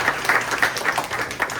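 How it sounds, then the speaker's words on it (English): Audience applause, a short burst of many hands clapping together in a dense, lively patter that stays steady and moderately loud for a second or two. "Let's give a round of applause to Ben Ryder is here"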